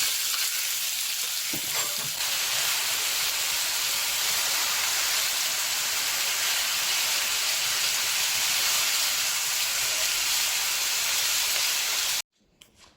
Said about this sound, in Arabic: كتحطوا الكفته ديالكم فوق الزيت